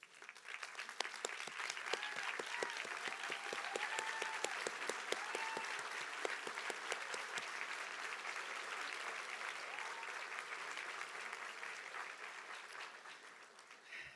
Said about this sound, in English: let's all stand one more time so we can give you a round of applause